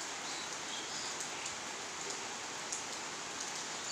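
Steady rain falls through a grey morning in Assam, a continuous even hiss of drops on surfaces close by with no voices over it.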